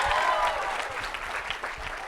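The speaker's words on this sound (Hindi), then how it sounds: "जोरदार तालियां।" Loud audience applause with cheering fills the whole stretch, a dense steady wash of clapping from a crowd at a film event.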